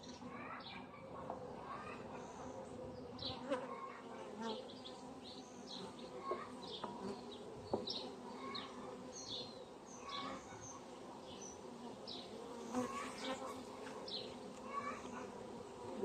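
Honey bees hum at their hive, a faint continuous buzz with scattered chirps and small clicks around it, quiet and steady throughout.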